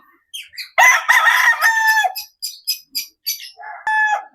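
A fine-feathered rooster being raised as brood stag stock crows loudly and close by in one long call, followed by a few short clucks and a second brief crow.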